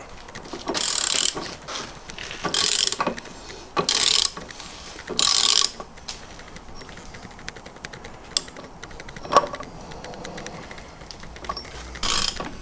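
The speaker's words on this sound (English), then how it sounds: "I'm going to finish it with the socket." A socket ratchet tightens a bolt while installing a Subaru Torq Locker, giving several short bursts of rapid clicking with pauses and faint handling knocks between them.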